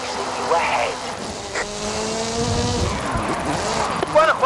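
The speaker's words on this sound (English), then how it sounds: "Hooligan Gymkhana 10 Ford Focus RS RX. 2-litre, turbocharged, front-mounted engine and all-wheel drive." A turbocharged 2-litre, all-wheel-drive Ford Focus RS RX, the Hooligan Gymkhana 10 car in Forza Horizon 5, revs and drifts with rising and falling engine tones and brief tire squeal, heard under someone talking throughout.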